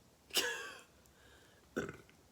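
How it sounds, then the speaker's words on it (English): Two burps after a meal of clam chowder, a long resonant one followed about a second and a half later by a shorter second belch, close and fairly loud. "Excuse me for burping, but I just ate clam chowder."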